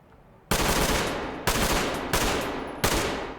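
Full-auto 7.62x51 NATO rifle fire in the Ready Or Not video game, four loud sustained bursts of rapid automatic shots, each cut off sharply before the next begins.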